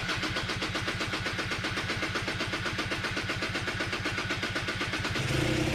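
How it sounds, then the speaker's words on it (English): Aprilia RS125 two-stroke with a 144cc big bore kit, its engine catching and running at a fast, even idle, loud and close with a steady rapid pulse throughout. "The chamber and gasoline tank were replaced and the engine started."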